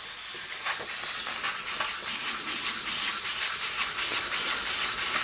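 An Empire 92 model steam engine runs steadily, hissing bright steam in a quick regular chuffing pulse, close and fairly loud, with no voices.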